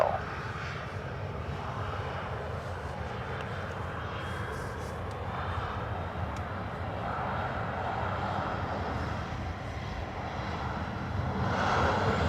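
Aircraft taking off from runway 10 right at Dublin Airport, a distant, fairly faint engine roar that holds steady and slowly swells toward the end, with no talk.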